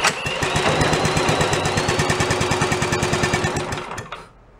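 An antique Briggs small engine is cranked on choke during a cold start, sputtering in a loud, fast run of rhythmic chugs that slows and dies away near the end.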